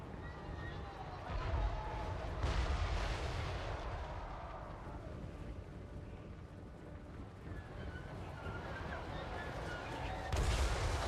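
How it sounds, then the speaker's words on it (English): Cannon fire booms in a battle from the video game Total War: Warhammer 3, with dwarf artillery in action. Heavy low rumbling blasts swell and fade across a dense din of combat, and a voice talks over it. "Who would have guessed 4 L cannons is strong?"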